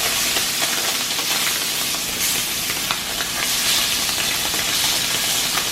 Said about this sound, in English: Oh yeah, that's a perfect sear on a scallop.